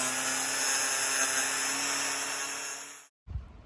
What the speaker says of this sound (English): first thing will be a bit of angle grinding here, just to make this gap behind the soffit a little bit bigger